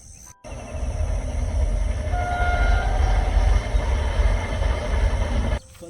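A train passes close by near Goregaon railway station, a loud rumbling roar of wheels and carriages with brief horn tones, rising abruptly and cutting off after about five seconds.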